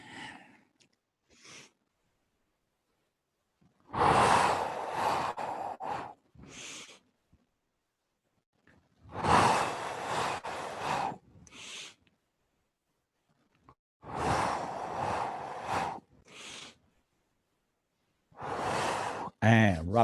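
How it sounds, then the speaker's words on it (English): Slow, deep breathing: four long, loud breaths close to the mic, each a broad airy rush, separated by quiet pauses with a few faint soft sounds between them. "Inhale. Exhale. Inhale."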